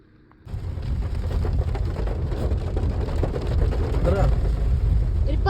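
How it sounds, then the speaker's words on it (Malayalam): Heavy rain drums steadily and loudly on a car during a road trip, starting abruptly and continuing as a dense, unbroken roar. "ഗൈസ് നല്ല മഴയാണ്."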